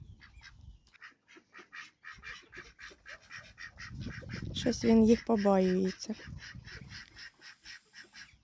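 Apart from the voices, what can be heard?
ducks and ducklings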